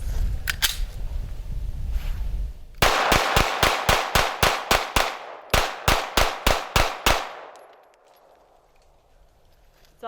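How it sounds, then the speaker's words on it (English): Rapid gunfire from a Sig Sauer P320 9mm subcompact pistol with rail and night sights, fired outdoors in two fast strings of sharp, loud cracks that each ring out briefly before the shooting stops and the scene goes quiet. "Fast as I can, 15 rounds coming at you."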